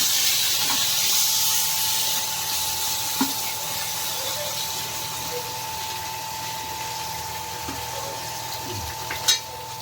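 Soaked dried fish frying in hot oil, a steady close hiss of sizzling with a few faint clicks and taps of utensils, no talk.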